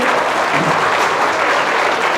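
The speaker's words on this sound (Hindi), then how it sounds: "एक बार जोरदार तालियों के साथ स्वागत करें" Loud, dense audience applause at a santoor and tabla concert, a continuous close roar of clapping welcoming the performers with no gaps.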